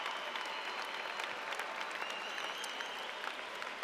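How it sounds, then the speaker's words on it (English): Sustained audience applause for graduates at a College of Education and Health Professions commencement ceremony, a dense, steady wash of many hands clapping from a large crowd, heard at a distance throughout. "please join me in a round of applause for all of our graduates"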